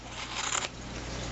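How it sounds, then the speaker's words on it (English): Sharp scissors make a single quick crisp snip through soft blanket fabric at close range, with a faint rustle around the cut. "So I'm just going to take that and just snip down and just keep going"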